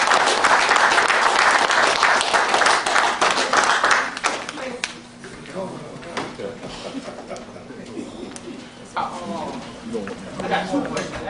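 An audience gives a round of applause for a man coming up to speak. Dense, loud clapping fills the first few seconds, then thins into scattered claps with voices talking over it.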